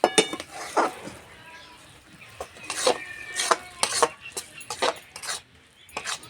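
A kadai holding thickened date-palm jaggery mixture for monda is lifted off the stove with a run of sharp, close metallic clanks and scrapes, spaced irregularly over several seconds, with no talking.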